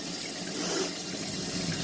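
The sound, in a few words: rinsing rice with running water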